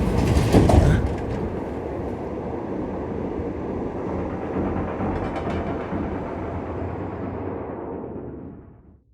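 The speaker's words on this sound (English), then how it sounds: "The train has stopped." A train in the video game Dying Light 2 rumbles along steadily with a clattering, metallic roll after a brief screech near the start, then gradually quiets and fades out as it comes to a stop.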